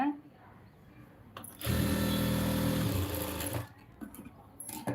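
Sewing machine stitching a lined blouse, a loud steady motor whir lasting about two seconds between quieter stretches, with light handling noises and brief starts around it.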